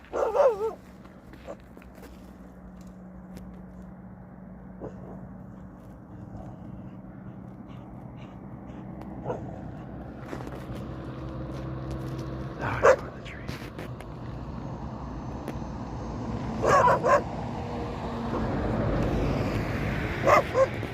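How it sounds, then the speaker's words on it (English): Dogs and a puppy bark and yip outdoors along a rural stretch of the Camino Francés near Belorado, scattered sharp bursts at moderate distance over steady background noise, louder toward the end. "I've just been chased down by these doggos, and doggo and puppyo."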